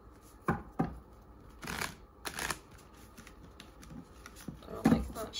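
Tarot and oracle cards being shuffled by hand, several quick papery riffles and soft slaps in uneven bursts, close and fairly quiet.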